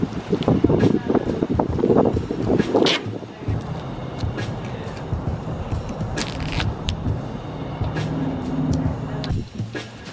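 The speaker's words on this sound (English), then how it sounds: "Ooh, that wind's picking up." Wind gusting outdoors around a 1984 Mercedes 230TE being worked on, a steady rushing roar with heavy buffeting on the microphone, louder and choppier early on, with a voice briefly audible.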